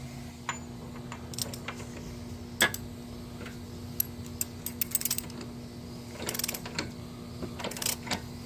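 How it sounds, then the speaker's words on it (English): A wrench turns on the front wheel bearing assembly of a 2013 Hyundai Sonata, making faint, irregular ratcheting ticks and metallic clicks, sometimes in quick bursts, over a low steady hum in a quiet garage. "we're just going to get our wrench back on here and start turning this"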